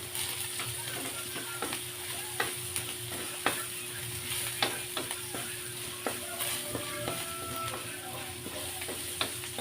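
Garlic sizzles steadily in a hot pan while a utensil scrapes and clacks against the metal in irregular strokes, stir-frying without any talk.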